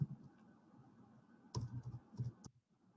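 A computer keyboard clatters as a file name is typed, with soft scattered taps and then a denser burst of quick keystrokes, close and fairly quiet.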